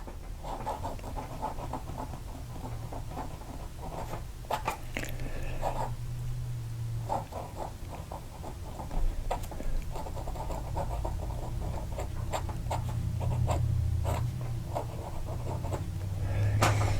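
A Platinum Century fountain pen with an ultra extra fine nib scratches faintly across paper in short, uneven bursts of strokes over a low, steady background hum.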